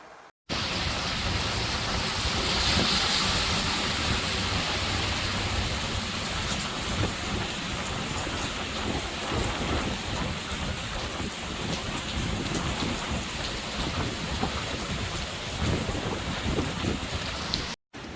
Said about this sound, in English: we'll show them a little clip of the typhoon, or a view coming in